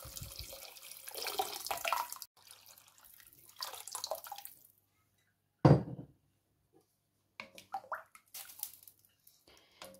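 Water is poured into a cooking pot of sautéed potato, carrot and onion for broccoli soup: splashy pouring bursts with brief pauses and a sharp clink near the middle, close and moderately loud, with no talking.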